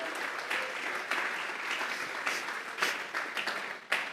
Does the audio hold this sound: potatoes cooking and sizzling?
no